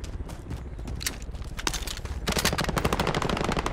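Rapid automatic machine gun fire in the video game Call of Duty Warzone, dense repeated bursts growing louder and more continuous toward the end, loud and close.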